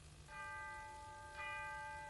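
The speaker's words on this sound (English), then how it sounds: "Chiming midnight." A clock chimes midnight with two faint, ringing bell-like strikes about a second apart, each leaving a long tonal decay over a low background hum.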